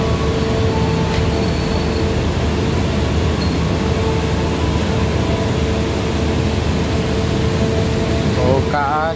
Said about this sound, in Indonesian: Namanya kereta api Joglo Somokerto.